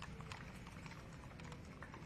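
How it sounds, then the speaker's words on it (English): Horses clip-clopping along a street during a Veterans Day parade in Hilo, Hawaii, carried by Pa'u riders; faint, steady hoof clatter runs under crowd ambience with no talking. "And now, the horses."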